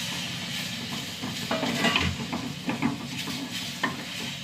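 Tomato sautéing in a pan with turmeric-spiced powders, a soft sizzle under a few close spatula scrapes and light clinks.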